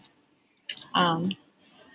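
A computer keyboard tapped to type a student's name into a login screen, giving a few sharp, close clicks in separate bursts, with a short bit of voice between them.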